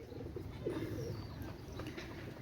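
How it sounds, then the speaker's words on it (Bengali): Pakistani KTM Teddy pigeons coo softly nearby, a couple of low burbling calls over a quiet room hum. "আপনারা লক্ষ্য করেন অনেক সুন্দর কবুতর"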